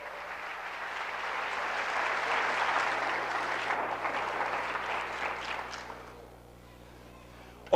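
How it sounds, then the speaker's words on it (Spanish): A church congregation applauds during a sermon, steady massed clapping that holds for several seconds and then dies away to near quiet. "Denle un aplauso a Cristo pues en esta mañana"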